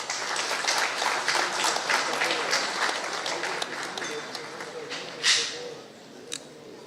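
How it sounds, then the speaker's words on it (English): Audience applause welcoming the IT minister of Telangana at an AI conclave, sustained crowd clapping that tapers off near the end, with a few louder isolated claps and some voices underneath. "May I request everyone to kindly welcome him with a huge round of applause."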